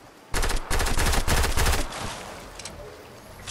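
Gunfire in the video game Fortnite, a rapid burst of several loud, close shots in quick succession, fading into a quieter tail with a couple of faint later shots.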